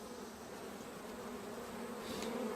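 A steady, low hum of honeybees buzzing fills an open hive during an inspection, constant and moderately close, with no talk.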